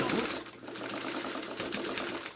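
A sewing machine stitches through a bulky quilt block in a rapid, even mechanical chatter, close and continuous for a couple of seconds with no talking.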